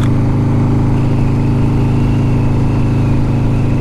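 The engine of a 1982 Harley-Davidson FXR Shovelhead, a rare five-speed model, runs steadily close by: a loud, even drone with a strong low rumble and no change in pace, and no one speaks.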